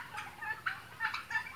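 Turkeys on a turkey farm gobble and call in a quick, repeated series of bright bursts, fairly close and moderately loud, with no talking.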